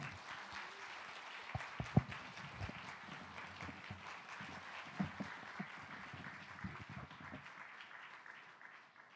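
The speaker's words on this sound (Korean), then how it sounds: "우리 교수님 나오실 때에 큰 박수로 환영하겠습니다" A church congregation at a worship academy event applauds to welcome a visiting professor, a dense, steady round of clapping lasting several seconds that fades out near the end.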